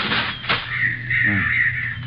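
A seagull sound effect from a radio drama: a few harsh, raspy squawking calls, close and loud, with one sharp call near the start and a longer wavering cry after it.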